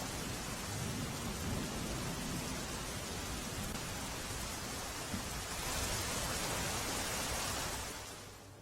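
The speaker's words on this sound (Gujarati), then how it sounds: "ગીર સોમનાથ જિલ્લામાં મુશળધાર વરસાદ વરસ્યો" Heavy, steady downpour in Veraval, Gujarat, fills the scene with dense hissing rain, while low rumbles of thunder roll underneath; the roar eases slightly toward the end.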